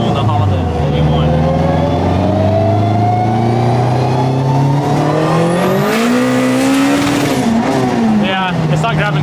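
A Honda Type R engine revs hard up through the range and bounces against the rev limiter on a street pull, loud and close from inside the car, with occupants talking over it.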